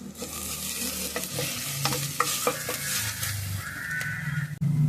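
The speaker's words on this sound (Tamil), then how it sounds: "ஃபைனலி சாப் கறி லீவ்ஸ், கருவேப்பிலை, ஸ்லைஸ் ஆனியன்ஸ் நல்லா வதக்கிக்கோங்க" Sliced onions and curry leaves sautéing in a pan for dal, a steady sizzle with repeated spatula scrapes and stirring, close up, and no one speaking.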